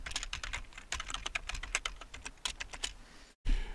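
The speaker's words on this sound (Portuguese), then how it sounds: "Digitei aqui uma senha" Someone typing a password on a computer keyboard to set up a new cryptocurrency wallet: a quick, irregular run of close, crisp key clicks that ends in a brief silence.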